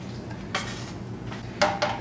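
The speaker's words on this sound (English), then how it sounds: "Just get it nice and stirred." A utensil stirs hot wing sauce in a metal pot, with sharp scraping clinks against the pot sides at irregular intervals over a low steady background, close and fairly loud.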